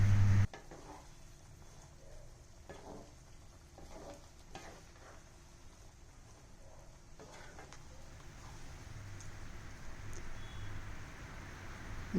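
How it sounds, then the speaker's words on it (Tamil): A pot of chicken gravy simmering as it is stirred, with a soft steady bubbling hiss and faint scraping of a spoon against the pot, fairly quiet and continuous throughout. "இப்போ இந்த நல்லா கொதிச்சுட்ருக்கிற டைம்லேயே நம்ம அரைச்சி வச்ச மசாலாவையும் இதில் நல்லா கலந்து விட்டுக்கலாம்"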